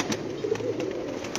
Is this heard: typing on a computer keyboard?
no